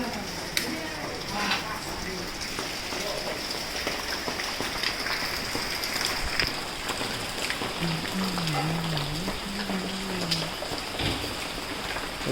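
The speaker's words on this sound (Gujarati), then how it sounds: "અત્યારે મસ્ત ઠંડુ વાતાવરણ થઈ ગયું છે અને ધોમ વરસાદ આવે છે" Heavy rain pours down on a cool day, a steady, dense hiss filling the whole stretch at close range, with faint voices murmuring low beneath it.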